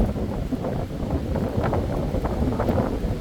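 Steady wind buffets the microphone with a constant low rumble and rustle throughout, no voices.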